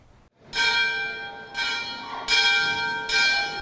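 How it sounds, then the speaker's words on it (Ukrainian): A large railway station bell rings four times at an uneven pace, marking the opening of an exhibition, each strike loud and ringing with a long metallic tone that carries into the next. "Залізничний дзвін сповіщає про старт масштабної виставки Юкрейн Вау"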